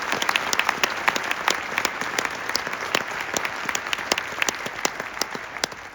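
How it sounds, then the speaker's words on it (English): An audience applauds a ninth-grade district honor band at a concert, with steady, moderately loud clapping and sharp individual claps standing out throughout. "Will you join me in a round of applause for the District 13?"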